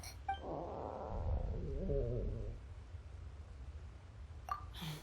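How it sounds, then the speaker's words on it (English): Stomach growling in Genshin Impact, a low rumbling gurgle that swells and warbles for about two seconds, close and moderately loud with no talk over it. "That would be my stomach growling. I haven't eaten enough."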